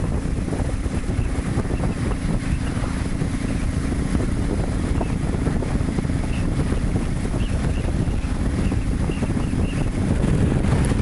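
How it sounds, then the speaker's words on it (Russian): Steady, loud broadband rush of strong wind buffeting the microphone, continuous throughout with no voices. "И вы гляньте, какой сильный ветер."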